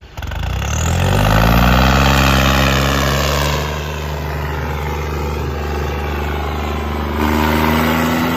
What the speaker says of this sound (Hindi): आजा ना ट्रैक्टर चला ले आजा